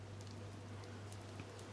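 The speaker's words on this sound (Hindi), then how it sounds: "उस दिन बाहर जोर जोर से बारिश हो रहा था।" Heavy rain falls outside in a steady, dense patter with scattered sharper drops over a low constant hum, soft and even throughout with no voices.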